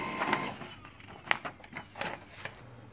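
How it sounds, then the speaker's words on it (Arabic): Canon printer printing a test page, an irregular run of faint mechanical clicks, whirs and paper-feed rattles, quiet and close. "وطبعت لنا تيست بيج"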